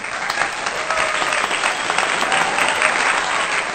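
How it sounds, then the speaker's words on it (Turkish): Audience giving steady, continuous applause, a dense and fairly close patter of many hands that holds at an even level. "Hadi kedi çocuğa bir moral alkışı verelim"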